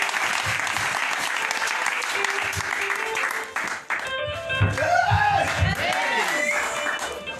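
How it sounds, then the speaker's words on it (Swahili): Church congregation applauding after a sermon, loud sustained clapping filling the room, thinning out midway as voices and a singing or chanting speaker rise over it. "Mpeni makofi mazuri."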